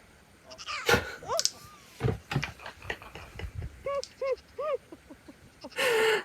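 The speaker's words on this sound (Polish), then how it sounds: "O, kózka." A goat bleats in a quick run of short, wavering calls, fairly close and clear, with scattered knocks and other noises before it and a burst of rushing noise at the end.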